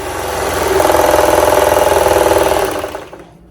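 A Baby Lock Celebrate serger stitches a rolled hem in a steady, loud mechanical whir with fast rhythmic chatter, running alone for a few seconds before slowing to a stop.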